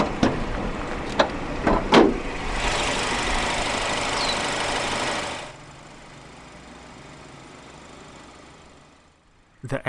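A 2014 BMW X3 xDrive20i with a turbocharged 2-litre inline-4 starts with a few sharp cranking bursts, flares loudly for several seconds, then settles into a steady, quieter idle close by.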